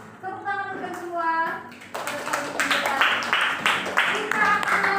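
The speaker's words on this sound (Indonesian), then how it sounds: "Tepuk tangan untuk semua." Participants in a teacher training session clap for all the groups after a brief voice, a scattered, somewhat uneven round of hand claps.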